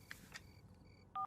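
A telephone redialing on speakerphone: a few faint keypad beeps, then a loud, clear pair of dual-tone dialing blips at the end, with no talk.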